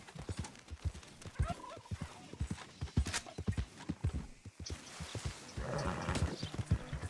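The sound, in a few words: horse hooves clip-clopping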